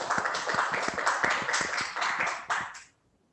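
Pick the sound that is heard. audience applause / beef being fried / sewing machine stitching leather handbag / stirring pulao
audience applause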